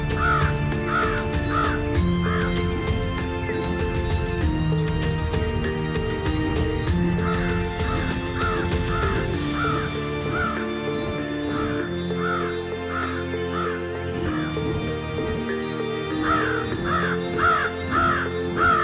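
Crows caw repeatedly in short rhythmic bursts over steady background music in an animated East Javanese folk tale, the calls clear and close throughout.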